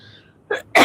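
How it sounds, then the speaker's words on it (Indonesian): A person coughs twice in quick succession, a short muffled cough followed by a louder, harsher one, close to the listener and heard on its own. "Aduh, batuk."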